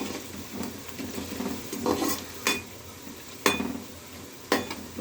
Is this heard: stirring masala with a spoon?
yes